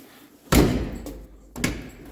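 A street rod's car door is pushed shut twice, each a heavy close thump with a brief rattle, about a second apart, fairly near and with no talking.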